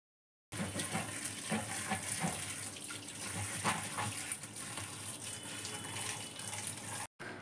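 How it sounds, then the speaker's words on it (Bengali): Tap water runs steadily into a sink while fish is washed in a home kitchen, a continuous close splashing hiss that stops briefly near the end. "আমি না চান করার আগেই মাছটা ধুয়ে নিই"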